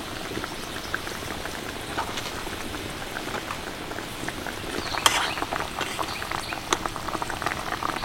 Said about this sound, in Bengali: এবার এটাকে 2 মিনিট মতো ফুটিয়ে নেব